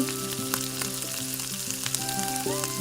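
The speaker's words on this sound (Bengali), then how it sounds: "এইবার কড়াইতে অল্প একটু তেল দিয়ে চাউমিনটা ভেজে নেব। প্রথমে দিয়ে দিলাম পেঁয়াজ কুচি, টমেটো কুচি," Chopped onion and tomato frying in a little oil in a wok for veg chowmein, a steady near sizzle with faint crackles, with light background music and no talking.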